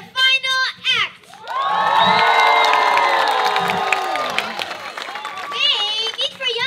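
A live musical show audience roars and cheers with many children's voices shouting together, a long loud swell of crowd noise that fades out, with a voice talking just before and after.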